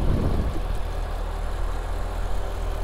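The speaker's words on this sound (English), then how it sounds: "Idle on this is very quiet," A 2009 Chevrolet Corvette 3LT with an LS3 V8 idles steadily, a smooth, quiet, even low rumble heard up close with no speech.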